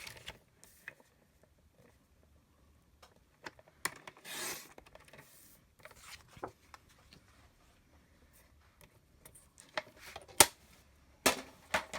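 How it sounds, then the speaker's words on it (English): A paper trimmer slices paper into a narrow strip for a handmade card, heard as sparse, quiet clicks and short scraping strokes spread over several seconds, with a few sharper snaps near the end and no talking. "So I'm just going to bring in my paper trimmer"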